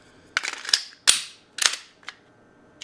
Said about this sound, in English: I could do mag changes all day long.